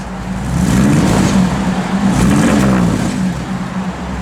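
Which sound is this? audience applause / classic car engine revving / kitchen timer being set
classic car engine revving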